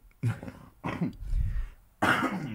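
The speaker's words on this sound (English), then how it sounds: "having a coughing fit" A short bout of harsh coughs and throat clearing, three bursts close to the microphone with a rough rumble between them.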